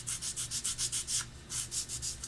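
Quick back-and-forth rasps of a coarse drugstore emery board beveling the leading edge of an oboe tenon cork, about a dozen close, even strokes in steady rhythm with a brief pause midway.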